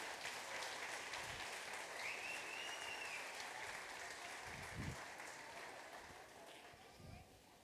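A church congregation claps together in sustained, fairly distant applause that slowly fades, with a voice faintly heard beneath it.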